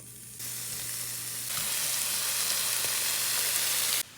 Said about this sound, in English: To a cold pan, add your bacon.